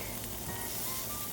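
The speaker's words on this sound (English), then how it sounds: "cook your marinated meat and mushroom over medium-high heat" Marinated meat and mushroom sizzle steadily in hot oil in a pan over medium-high heat, a close, continuous crackling fry with no talking.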